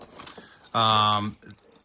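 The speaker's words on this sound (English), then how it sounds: "I have in here just some keys to some other kind of padlocks and things like that sometimes I need to get to." A bunch of padlock keys jangles briefly and brightly close by, a single metallic shake in the middle, with quiet talk before and after it.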